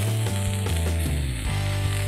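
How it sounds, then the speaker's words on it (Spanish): Meat starts to sizzle as it begins cooking in a pan alongside vegetables, a steady hiss and crackle running throughout under a low, continuous hum from the kitchen, with no voices. "Vean cómo se empieza a cocer la carne."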